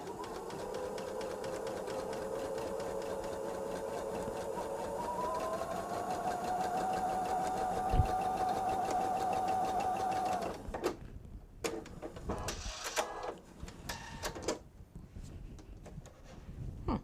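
A sewing machine stitching pieces of fabric together, a steady fast mechanical whir and hum that rises slightly in pitch, then stops and gives way to clicks, rustling and handling of the fabric.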